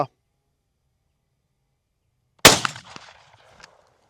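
A single shotgun shot fired at a target cracks out loud after near silence, followed by a short rattling tail that dies away within about a second.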